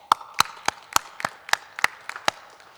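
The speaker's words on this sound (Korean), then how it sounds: "우리 박수로 하나님 앞에 영광을 올려드리시기를 바랍니다" A church congregation at a Sunday worship service claps in a sparse, uneven series of about eight sharp claps, fairly close and with no voices over them.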